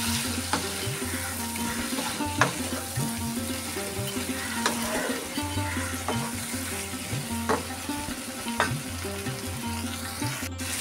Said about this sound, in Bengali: এবারে একটু আমি আঁচটা বাড়িয়ে মশলাটা কষিয়ে নিচ্ছি ভালো করে চিকেনের সাথে।